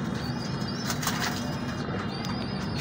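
Teddy pigeons fluttering and flapping their wings close by, soft repeated feathery bursts over a steady background hum, with no talking.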